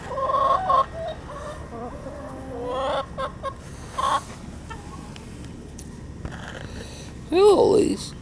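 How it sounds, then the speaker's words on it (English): A backyard rooster clucks in short bursts among hens, with a louder squawking call near the end; someone talks to the birds over it. "Mr. Rooster, what's going on here?"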